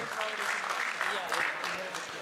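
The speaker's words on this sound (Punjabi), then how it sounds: "ਥੋੜੀਆਂ ਤਾਲੀਆਂ ਹੋ ਜਾਣ ਜੀ, ਜਾਗ ਜਾਓ ਥੋੜਾ" An audience at a Punjabi literary festival claps together in a sustained, dense burst of applause that stays fairly even throughout, with some voices mixed in.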